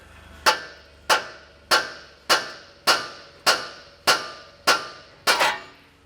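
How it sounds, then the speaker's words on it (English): Nine sharp metallic hammer blows strike a Toyota Tundra steering knuckle at an even, unhurried pace to free a ball joint, each ringing briefly before the next tap. "you might have to tap the knuckle with a hammer"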